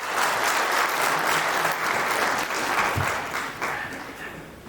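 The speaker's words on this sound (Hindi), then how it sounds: "एक बार जोरदार तालियों से अपने खुद का इस्तेकबाल करें" An audience in a cold university auditorium at a vice chancellor's New Year 2022 address claps loudly and continuously, a dense wash of applause that holds steady before tapering slightly near the end.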